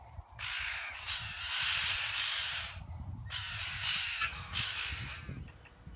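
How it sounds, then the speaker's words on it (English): Apostle birds call in a loud, harsh, continuous chorus of rasping chatter, close by, in two long bursts separated by a brief lull. "We also wandered up to visit the apostle birds, or CWA birds as we call them"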